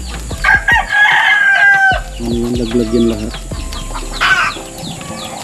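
Farmyard chickens cluck in loud, busy bursts while a rooster crows nearby, and a person speaks briefly over the poultry noise.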